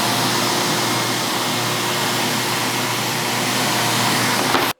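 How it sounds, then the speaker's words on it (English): A shop vac powers a DIY vacuum hold-down table for a CNC router, roaring as a loud, steady broadband whoosh of rushing air for nearly five seconds before cutting off abruptly. "So I'm going to turn on the vacuum. Lots of air coming through."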